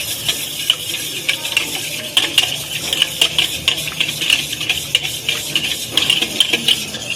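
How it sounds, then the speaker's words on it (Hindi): Sugar and yeast being stirred together in a bowl for chocolate bread dough, a steady scraping and clinking of a utensil against the bowl, continuous and close. "अब ईस्ट डाल देंगे इसमें और इसको भी मिक्स कर देंगे।"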